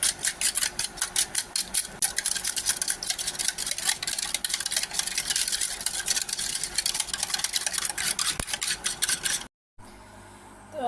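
A rapid, steady whirring and clicking of a mixer beating eggs with sugar runs continuously before cutting off abruptly near the end.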